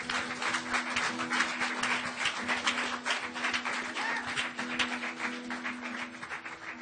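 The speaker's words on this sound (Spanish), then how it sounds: "Dale un aplauso fuerte al Señor" Congregation at a Spanish-language church worship service applauds in sustained, brisk clapping over a steady low tone, at a constant moderate level.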